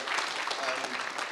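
Brief burst of audience applause at an investment forum in Adelaide, Australia, a dense, steady wash of clapping filling the whole moment.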